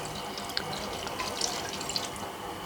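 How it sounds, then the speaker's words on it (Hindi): About half a cup of water poured into a pot of cooking potatoes, a soft continuous trickle and splash, fairly faint and steady, with no voices. "हाफ कप के बराबर थोड़ा सा बस पानी शामिल करूँगी"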